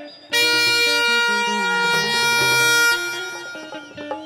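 A handheld bhonpu horn is blown at a fair in Rishikesh, giving one loud, brassy blare of about two and a half seconds that then fades into softer crowd and fairground noise.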